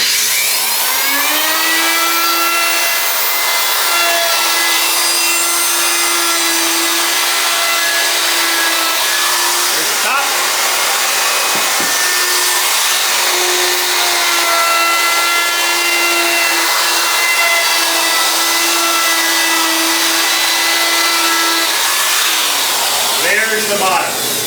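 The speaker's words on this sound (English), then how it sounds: "I have that loaded up in my router here, and this little ball bearing bit follows around the nicely sanded exterior" A handheld router with a ball-bearing round-over bit cuts the edge of an ash Telecaster guitar body, whining loudly and steadily for over twenty seconds, with brief dips in pitch as the bit bites into the wood.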